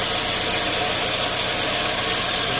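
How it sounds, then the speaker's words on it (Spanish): A car engine runs at idle with one fuel injector disconnected, a loud close steady drone with a faint uneven rattle in it and no pauses or voices. "Al desconectar se debe de sentir un cascabeleo en el motor"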